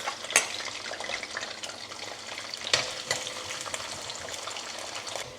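Garlic sizzling in hot sesame oil in a pan while making a baccaurea pickle, a steady crackling fry with occasional sharper pops and stirring scrapes, close and loud with no talking.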